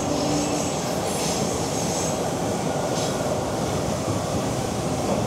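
Toronto subway train pulling into a station: continuous loud rumble of cars rolling over rails with a steady roar, a brief squeal near the start and faint wheel screeches, no voices.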